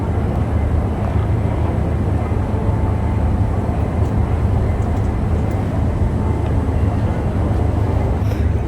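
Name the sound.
airplane taxiing to the runway before takeoff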